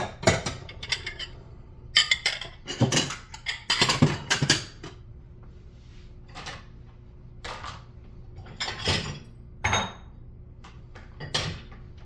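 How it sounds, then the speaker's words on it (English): Dishes being washed fast in a home kitchen sink, with scattered clinks and clatters of crockery and containers in bursts separated by quieter gaps. "I gotta get these dishes done, so I'm gonna do these dishes really fast"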